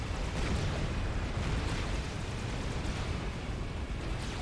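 Artillery shells burst in Supreme Commander: Forged Alliance, a dense, continuous roar of overlapping distant explosions rumbling steadily without a break.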